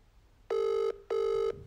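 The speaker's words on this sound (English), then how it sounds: "Answer your phone, you selfish pig." A telephone rings nearby in a clear, loud pattern of two evenly spaced electronic rings, each just under half a second, over a quiet background.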